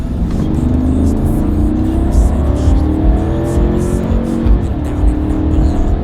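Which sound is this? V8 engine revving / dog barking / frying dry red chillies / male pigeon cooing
V8 engine revving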